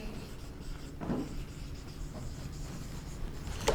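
Pen or marker writing on paper or a board, faint scratchy strokes close by over a steady background hum, a few brief louder strokes and a small knock at the end.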